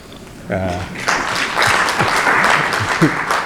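Conference attendees break into applause for a speaker at a regional gathering of anti-corruption agency heads, the clapping swelling after a brief voice and continuing densely for a few seconds, fairly close and loud.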